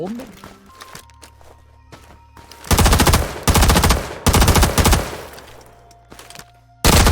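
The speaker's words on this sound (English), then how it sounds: "A weapon that is not in the regular game is the PPS-43 submachine gun." PPS-43 submachine gun fired in the Vietnam-era shooter game Rising Storm 2: Vietnam, with loud sustained automatic bursts separated by pauses, one final burst near the end, over quieter game ambience.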